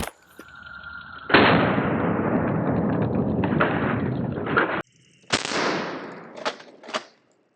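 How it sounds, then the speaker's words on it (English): A Smith & Wesson shotgun fires 00 buckshot at a Level IV ceramic body armor plate: one loud, sharp outdoor blast with a long rumbling tail, then a few shorter bangs and knocks, with no talking. "we're gonna fire it here through the Smith & Wesson shotgun and see how it does"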